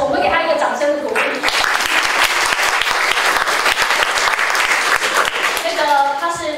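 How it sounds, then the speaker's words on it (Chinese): Audience applause in a hall at a death-penalty abolition forum, thanking a volunteer translator; steady dense clapping from many hands, swelling and holding for several seconds, with a speaker's voice heard at the start and end. "我们给他一个掌声鼓励"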